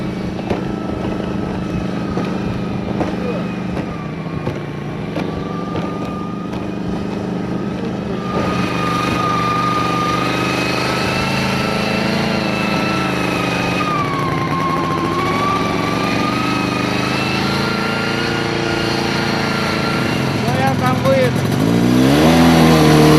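A car travels a rough rural road at night on the way to a weather station, its steady engine drone and changing whine continuous and loud throughout, growing rougher near the end.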